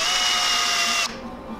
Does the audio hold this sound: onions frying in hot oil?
no